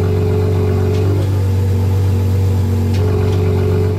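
A supercar engine in Race mode with its exhaust valves open, idling with a deep steady drone and swelling in brief revs, close and loud throughout with no talk.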